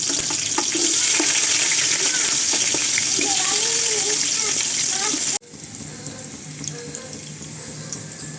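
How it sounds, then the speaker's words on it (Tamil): Onions frying in a pan for homemade chicken biryani give a steady, close sizzle with a watery hiss. A voice speaks over it, and the sizzle drops to a quieter level partway through. "வெங்காயம் நல்லா வதங்கிடுச்சு."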